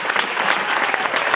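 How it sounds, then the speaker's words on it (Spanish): A church congregation applauds loudly in a dense, steady burst of many hands clapping together. "dale un aplauso fuerte al Señor"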